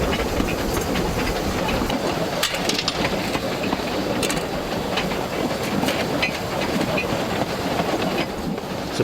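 Small steam locomotive Sandy hauling a short train, a continuous rumbling chuff with hissing steam and occasional sharp clanks and rail clicks, fairly loud and close throughout, with no talk.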